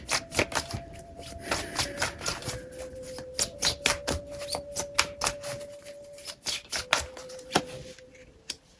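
Tarot cards riffle and slap through a steady, close shuffle of quick papery snaps and taps, with a faint steady tone running underneath.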